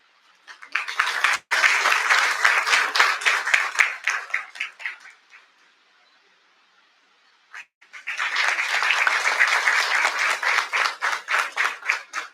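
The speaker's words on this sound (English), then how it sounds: "Please give a big round of applause to welcome Abhishek Dey sir." Audience applause in a seminar hall at a panel event, a dense burst of clapping that fades out, a few seconds of near silence, then a second strong round of clapping.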